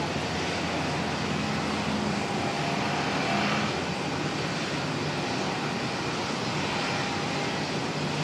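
Air New Zealand aircraft arriving from Wellington at Auckland Airport, a constant dense engine rumble and hiss filling the whole stretch at steady loudness, with no voices.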